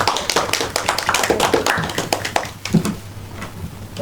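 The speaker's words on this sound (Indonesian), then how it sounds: "Tepuk tangan teman-teman" Classmates clap for the winners in a classroom during a geography microteaching session, giving a close, lively patter of individual claps that fades toward the end with a low hum underneath.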